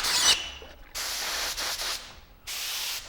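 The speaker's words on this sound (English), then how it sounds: "now I'm going to spray on a little, kind of an off-white" Aerosol spray paint in an off-white shade hissing onto a fitted latex zombie mask in three close, steady bursts separated by short pauses, with no voices.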